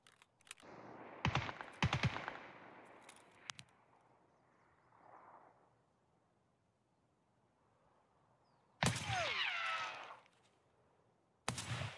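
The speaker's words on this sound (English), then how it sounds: "That was an M4 that shot me." Gunfire in Escape from Tarkov, including M4 rifle shots, arriving as a few sharp clustered cracks early on and then a loud burst later, separated by quiet stretches of faint rustling.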